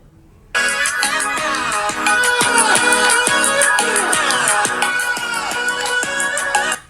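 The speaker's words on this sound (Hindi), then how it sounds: "पहले चेक करेंगे सैमसंग का साउंड।" A Samsung Galaxy A57 plays a ringtone-like melody through its stereo speakers, a bright, steady tune with regular plucked note onsets running continuously for about six seconds, close and clear with no talking.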